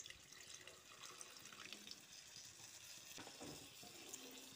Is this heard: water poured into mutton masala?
yes